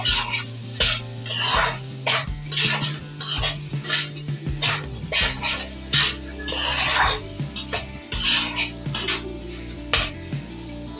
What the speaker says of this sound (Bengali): এবার আমি পরিমাণ মতো দিয়ে দিচ্ছি লবণ এটা আপনারা স্বাদ মতো দিয়ে দেবেন আবার আমি কিছুক্ষণের জন্য নাড়াচাড়া করে নেব